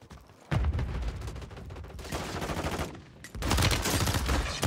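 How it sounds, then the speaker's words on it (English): Bursts of heavy gunfire and explosive blasts from a Warzone 3 battle, a mortar among them, come in loud dense volleys with a short lull between them. "There's a fucking mortar."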